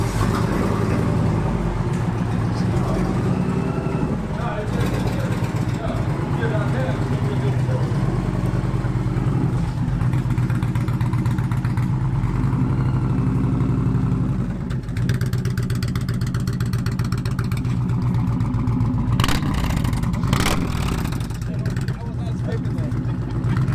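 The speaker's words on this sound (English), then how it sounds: "take the Challenger for a spin up the block in probably about 30-something degree weather" Indian Challenger motorcycle fitted with a new exhaust pipe rumbles steadily and loudly as it pulls away on a wet, cold street, its engine drone continuous throughout with a voice speaking over it.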